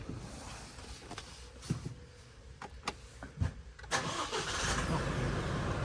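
An Isuzu car's engine cranks and fires after a few quiet clicks and thumps inside the cabin, then settles into a steady, moderately loud idle hum.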